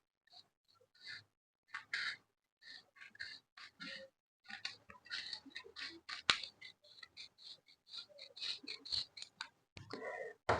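Scissors cutting a paper sleeve pattern during sleeve drafting, with a long run of close, crisp snips and slicing strokes in uneven bursts, alone and quiet.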